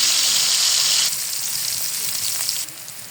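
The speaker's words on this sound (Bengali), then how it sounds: "ভালো করে ধুয়ে হলুদ লবণ মাখিয়ে রেখেছি, এখন ভেজে নিই।" Pangas fish pieces coated with turmeric and salt frying in hot oil, a loud, steady hiss and sizzle that eases down slightly partway through.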